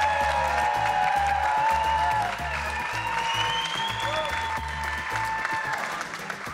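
A television studio audience applauds on a Turkish entertainment show, a crowd clapping steadily while background music plays beneath, easing slightly in the second half.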